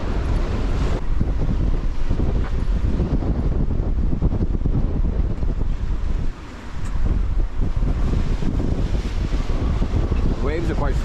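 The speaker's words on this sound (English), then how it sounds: "Really gusty here." Strong, gusty wind of around 31 knots sweeps down off a mountain onto a sailboat beating to weather in a near gale, a loud roaring buffet on the microphone with splashing water beneath, and speech faintly mixed in.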